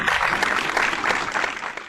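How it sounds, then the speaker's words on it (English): An audience applauds at an IT symposium award ceremony, a short burst of dense, even clapping close by. "So please let us give them a good round of applause and a good round of hands."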